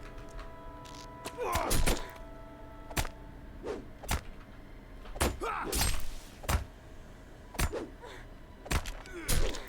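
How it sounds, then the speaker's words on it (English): Bow shots landing on an opponent during combat in the fantasy online game Lord of the Rings Online: sharp, punchy thunks recurring at irregular intervals, about a dozen over the stretch, each a clean close impact over a quiet game backdrop. "I better go back here and shoot him with my bow"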